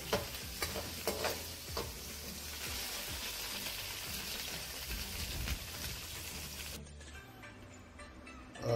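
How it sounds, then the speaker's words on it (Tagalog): Tofu frying in hot oil until browned, a soft, continuous sizzle with light crackle and occasional stirring at low level, cutting off to near quiet at the end. "Sunod natin naman itong tokwa. Iprito natin siya hanggang sa"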